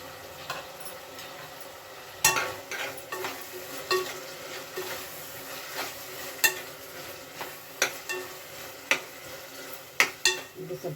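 Tomato fries in a pan during pulao cooking, with a soft steady sizzle under repeated sharp scraping and tapping of a spoon stirring against the pan.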